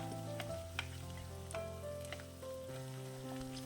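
Ginger and curry leaves sautéing in a pan for lemon pickle give a continuous soft sizzle, with occasional light utensil clicks and steady tones in the background.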